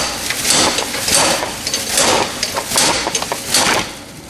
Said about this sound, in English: My shifter's in the way. This huge slide hammer.